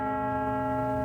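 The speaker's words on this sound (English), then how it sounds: "Bells tolled all around London for the monarch." A church bell tolls in London for the death of Queen Elizabeth II, its sustained ringing hum holding steady and fairly loud throughout, with no voices.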